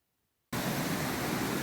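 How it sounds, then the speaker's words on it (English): A waterfall swollen after heavy rain bursts in abruptly after a moment of silence, a loud, dense, continuous rushing roar close by. "So we've come down to the waterfalls."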